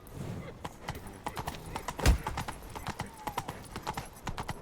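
Horse hooves clip-clopping in The Witcher 3 video game, a steady trotting rhythm of close hoofbeats with a short whinny partway through and voices speaking over the gait.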